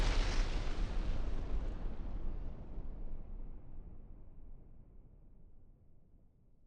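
Tank ammunition explodes with a heavy roar and rumble, then slowly fades into a long, crackling decay over several seconds.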